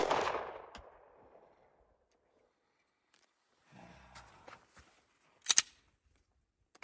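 Gunshots at an outdoor shooting range: a loud report at the start that decays slowly, then quieter shuffling and a second sharp, close shot near the end, with no talking.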